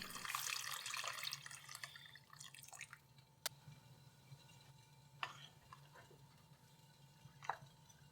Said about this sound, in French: Et je complémente en rajoutant de l'eau,